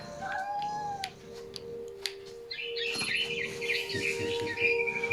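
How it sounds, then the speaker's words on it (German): Bird chirping in What Remains of Edith Finch: thin, high tweets and short calls near at hand over a quiet steady hum, followed by a brighter rush of chattering chirps. "Komm her, du kleines Vögelchen."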